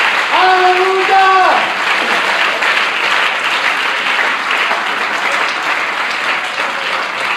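Sustained applause from a church congregation, many hands clapping in a thick, even roar. A loud voice calls out over it at the start, then the clapping carries on alone.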